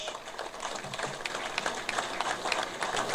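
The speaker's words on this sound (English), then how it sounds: "Let us welcome with a round of applause Comrade Ramesh Maharaj." Applause from delegates at a trade union's 77th annual conference, a steady dense patter of many hands clapping in a large hall, moderately distant and sustained throughout.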